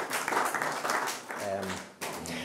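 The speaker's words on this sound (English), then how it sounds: "So I think we should give Avril a round of applause" Lecture audience applause on the EU emissions trading scheme, a dense spatter of clapping with a voice speaking briefly over it in the middle.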